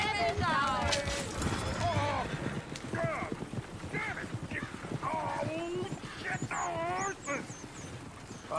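Horse hooves clip-clop steadily in Red Dead Redemption 2, a continuous trotting rhythm under ongoing talk from several voices, with the game's ambient bed running throughout.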